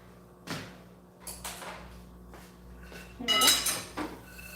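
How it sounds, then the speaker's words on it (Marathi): Roasted makhana (fox nuts) tumble into a bowl in a home kitchen with a few light clattering rattles and one louder rustling pour, close and fairly quiet. "आता या बाऊलमध्ये आपण छान हे टाकून घेऊयात मखाना"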